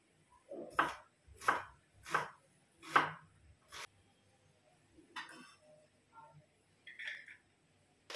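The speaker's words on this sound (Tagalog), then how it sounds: "yung chicken guys, liliitan ko lang yung pagkakahiwa" A knife chops chicken breast into small slanted pieces on a board: four sharp, evenly spaced chops up close, then a few quieter taps and clinks.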